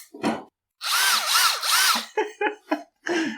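A cordless battery-powered drill whirs loudly in several bursts, first long sustained runs with rising and falling motor pitch, then short quick triggers, heard up close inside an old milk parlor used as a cider room.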